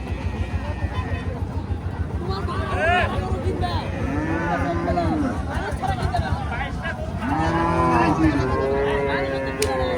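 Several cows, some with calves, moo in long, drawn-out calls, one after another, amid the chatter and background noise of a cattle market.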